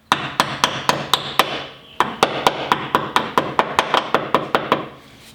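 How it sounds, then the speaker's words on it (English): A small ball peen hammer taps a metal brake line clip into place on a car, about twenty sharp, close metallic knocks in a steady rhythm with a brief pause near the middle. "the best way that I find to put it back in is with a little ball peen hammer."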